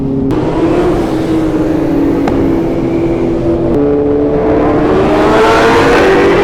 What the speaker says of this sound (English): I just heard the turbo just spooling up